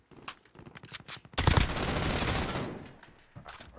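Video game gunfire comes in bursts of rapid shots, then one loud, dense sustained volley for over a second that fades into scattered shots, up close and with no talk.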